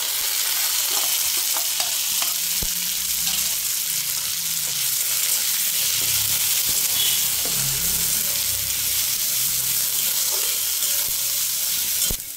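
Ground dried fish paste with garlic sizzling and frying in a pan, a steady loud crackle with occasional stirring scrapes and clinks, no talk.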